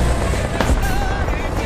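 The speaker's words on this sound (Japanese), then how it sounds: "これは、ソ連の BMPK の音だな。" A Soviet BMP armored vehicle's engine in the War Thunder tank game gives a rough, continuous mechanical rumble with gritty, broadband noise and a brief louder surge partway through.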